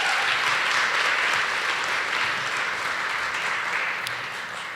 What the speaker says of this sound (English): I would like us to please put our hands together to give our students a warm round of applause.